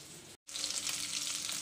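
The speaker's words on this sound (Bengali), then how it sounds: "ইলিশ মাছটার মুড়োগুলো ভাজা হয়ে গেছে" Hilsa fish heads frying in hot oil, a soft, steady sizzle with a brief silent gap near the start, heard close and alone.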